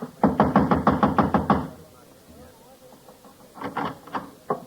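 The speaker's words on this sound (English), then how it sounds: "I walked over and started knocking again." A rapid series of about ten firm knocks on an apartment door as a radio drama sound effect, loud and close, followed after a pause by a few more knocks.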